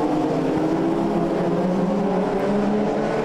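Hot rod race cars, including a Vauxhall Tigra, run nose to tail at the Hot Rod World Final; a loud, steady multi-engine roar fills the clip with no talking over it.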